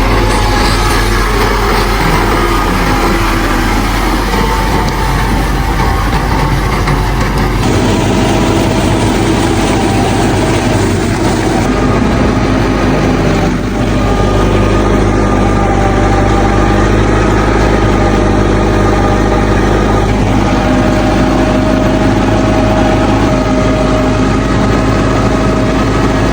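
A tractor engine runs steadily, a loud, close, continuous low mechanical drone with slight shifts in pitch and no speech over it.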